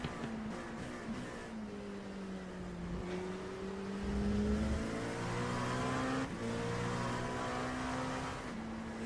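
An LMP2 race car's 4.2-liter V8 in a racing video game at Road America, revving and shifting through gears with rising and falling engine tones, steady and prominent with no talk over it.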